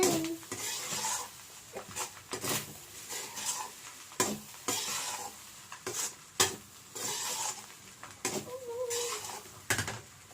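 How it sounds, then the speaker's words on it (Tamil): Ingredients for egg fried rice being sautéed with salt and spices in a pan, irregular stirring scrapes and clatters over a light sizzle, close by. "உப்பு போட்டுட்டு வதக்குங்க."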